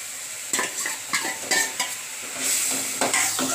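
Jackfruit seeds are stirred through a thick simmering gravy in a pan: soft, sizzling frying noise with repeated scraping and clinking stirring strokes, close and fairly loud, and no talking.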